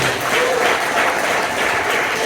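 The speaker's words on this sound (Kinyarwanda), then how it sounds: "Tumukomera amashyi umwami wacu." Church congregation at a gathering in Rubandaga, Uganda, applauding together in steady, dense clapping that fills the space close and loud throughout.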